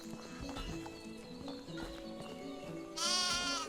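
A horse in the video game Medieval Dynasty, with repeated clip-clop hoof steps over background game music, ending in a loud whinny at close range.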